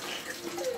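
Brown rice is washed by hand in water, a brief close swish and trickle of water being stirred, fairly quiet.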